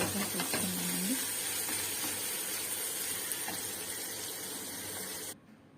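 Curry leaves frying in hot oil for drumstick soup, a steady loud sizzle and hiss that runs without pause, then drops away abruptly near the end.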